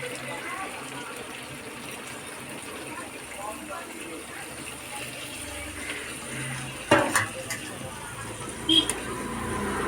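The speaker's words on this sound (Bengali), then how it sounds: "এবার জল দিয়ে দেবো" Water is poured into a pan of spiced chicken curry with liver and gizzard on the stove, making a soft, steady gush that sits low under kitchen background noise.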